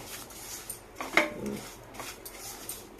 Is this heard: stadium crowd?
no